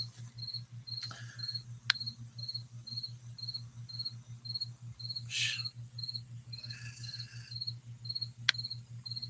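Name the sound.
crickets chirping sound effect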